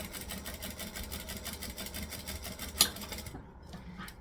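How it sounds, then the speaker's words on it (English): A sewing machine runs a back stitch on a bucket bag, a fast even mechanical chatter of the needle for about three seconds, then a sharp click and quiet as it stops, close and without talk. "we are going to back stitch to lock it in"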